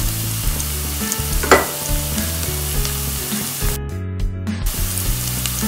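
Curry leaves hit hot oil alongside onion in a pan, giving a loud, steady close sizzle with a brief sharper crackle early on and a low hum running underneath.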